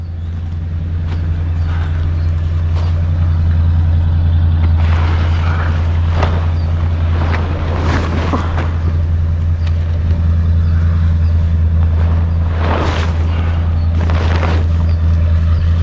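A revived Lincoln car engine runs steadily up close with a deep, constant low rumble, while scattered rustles, knocks and bursts of wind noise come and go over it.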